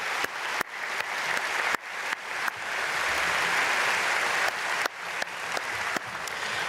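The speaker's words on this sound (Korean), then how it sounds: "우리 박수로 축복하겠습니다." A church congregation claps together in a dense, sustained burst, with several sharp isolated claps punctuating the start and end of the applause.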